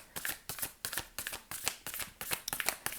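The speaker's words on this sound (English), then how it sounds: "I will now shuffle for some oracle cards for you," Oracle cards being shuffled by hand, a quick rhythmic series of close, crisp riffling bursts repeating roughly every third of a second, with no talk over them.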